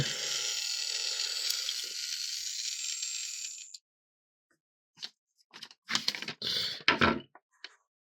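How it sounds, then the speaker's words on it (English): A Plarail Thomas toy train motor whirs steadily for about four seconds while its wheels fail to turn, then cuts out, followed by a few scattered clicks and rattles of handling. "The motor's running, but the wheels ain't turning."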